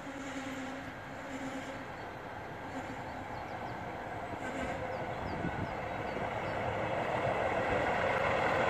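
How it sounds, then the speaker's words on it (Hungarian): A train rolling into the station on the line to Sopron, Hungary, a broad steady rumble and rail hiss that grows gradually louder as it draws near, with no talk over it. "Megvan a soproni vonatunk."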